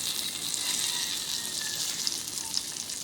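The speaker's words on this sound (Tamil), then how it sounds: "இப்போ பார்த்தீங்கன்னா மீன் நல்லா எண்ணெயில் வெந்துக்கிட்டு இருக்கு" Masala-coated fish frying in oil on a dosa pan gives a steady, even sizzle with fine crackling throughout. No one speaks.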